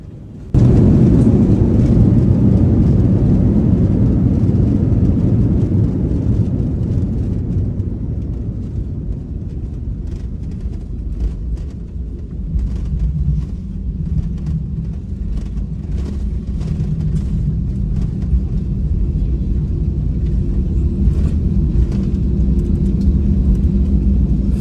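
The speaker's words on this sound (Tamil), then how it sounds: "இங்கே பாருங்கள் இறங்கிடுச்சு, இறங்கும் போது எப்படி அதிர்வுது பாருங்கள்." A passenger airplane landing at Taipei airport in Taiwan, heard from inside the cabin: a heavy, continuous rumble and vibration that swells on touchdown and then eases into a steady rolling drone, with no voices.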